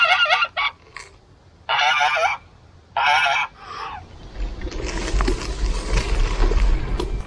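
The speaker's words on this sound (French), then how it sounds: "c'est quoi ce délire de mettre une oie pour garder le chemin là?" Goose on a canal towpath honking in several loud, harsh bursts close by, followed by rising rustle and low rumble of movement.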